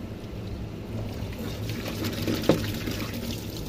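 Hot water poured onto dishwashing gel, a steady soft pouring and foaming wash with a faint splash midway, fairly quiet and without talk.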